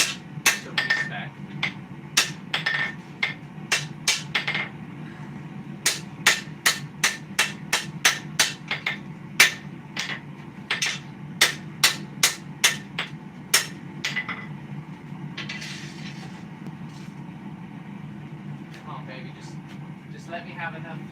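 Steel hammer strikes on a sword blade at a gas forge while beveling the edge, a fast run of sharp, ringing metallic blows that stops after about 14 seconds, leaving the steady roar of the forge.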